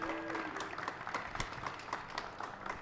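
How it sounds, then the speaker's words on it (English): Audience applause for an ultrarunning champion at a pre-race interview event for the 2021 Western States race, a faint, steady patter of many hands clapping with no talk. "Mr. Jim Walmsley, please, big round of applause for the champ."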